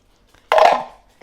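A flour and bouillon mixture poured into a pan of beef tips, heard as a single short splashing pour of about half a second, close and fairly loud, then quiet.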